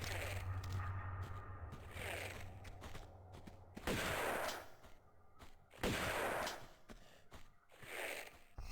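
Shotgun blasts in the Tomb Raider video game, several loud booming shots spaced a second or two apart, each with a sharp attack and a rumbling tail.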